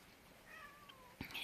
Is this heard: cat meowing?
yes